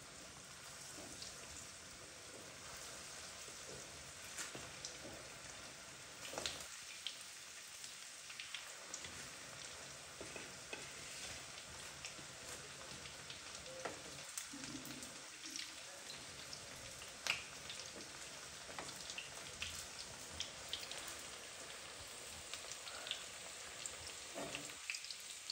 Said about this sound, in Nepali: फ्राई गर्दैछु यहाँ तेल पनि खरिरहेको छ